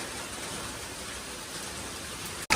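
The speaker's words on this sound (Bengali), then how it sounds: "বৃষ্টি দেখছো দিদুনের বাড়িতে খোলামেলার মধ্যে, দেখে নাও।" Steady rain falls outdoors around an open house, a dense soft hiss of drops heard without talk, cutting off briefly near the end.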